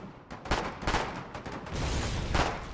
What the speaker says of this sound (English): Fire fragmentation round.